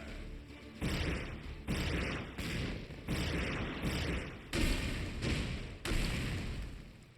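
Cannons fire in a broadside in the video game Like a Dragon: Pirate Yakuza, a series of about eight loud, booming blasts in quick succession, each rolling into the next with no talking.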